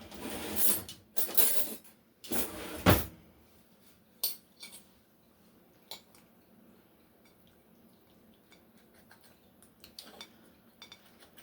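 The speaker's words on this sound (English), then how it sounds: "the tortilla does not want to cut" Trying to cut tortillas for a chicken tinga taco casserole brings a burst of metal cutlery clattering against a dish, then scattered fainter clinks and taps with quiet gaps between.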